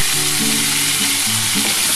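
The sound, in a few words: pointed gourd (potol) frying in a pan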